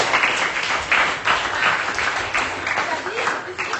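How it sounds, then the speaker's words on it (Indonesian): Group applause in an Indonesian classroom session, many hands clapping at once in a dense, steady wash, with voices mixed in underneath. "tepuk tangan dong untuk kita semua"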